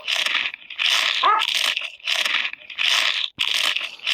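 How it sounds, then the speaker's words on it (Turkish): Food being bitten and crunched at close range, in five loud crisp bursts of crunching and chewing separated by short pauses, with no talking over it. "Şimdi şunu da şu bir tane ısırsam bunu da bir tane ısırırım."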